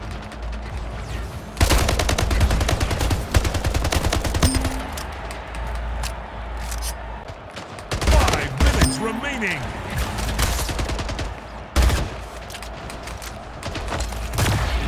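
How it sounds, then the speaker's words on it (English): Sniper and automatic gunfire in the video game Splitgate, with loud rapid bursts and sharp single shots that start and stop repeatedly over a constant mechanical background hum. "They're sniping into red."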